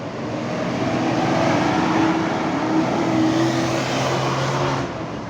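Sumber Selamat bus 7495 running the Surabaya–Malang route, a steady loud engine roar with tonal hum as it rolls past close by, no voices.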